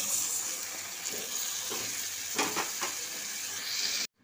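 Egg curry frying in a pan gives a steady bright sizzle, and water poured in midway sets off a louder hissing burst before the sound cuts out abruptly.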